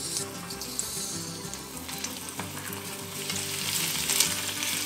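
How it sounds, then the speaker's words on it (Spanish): Onion slices and a garlic clove fry in hot oil, giving a steady, close sizzle with a dense crackling hiss that swells slightly toward the end, with no voices. "En un poco de aceite caliente freímos unas rebanadas de cebolla y un diente de ajo."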